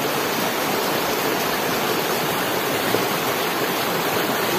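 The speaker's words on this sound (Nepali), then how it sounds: "यो चाहिँ फाइनल खोला हो" A mountain stream (khola) on a hill trek route rushes loudly and steadily, its broad, even roar of flowing water continuous from start to end with no voices.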